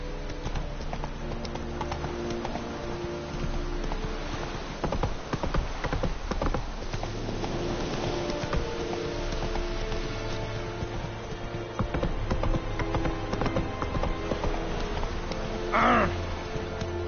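Hooves of Roach, the horse in The Witcher 3: Wild Hunt on PS4, galloping in a steady rhythmic clip-clop, with faint crow caws and a brief bird call near the end.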